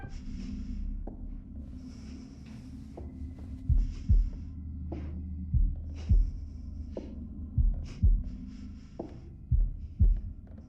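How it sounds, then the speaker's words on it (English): Heartbeat sound effect in the horror video game The Devil in Me, slow paired thumps repeating steadily over a low droning hum, loud and close, with no talk. "Oh, we got the heartbeat coming."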